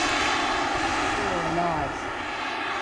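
An HSD Jets T-45 Goshawk model jet roars steadily at full throttle, a loud continuous turbine rush with a faint shift in pitch as it passes overhead.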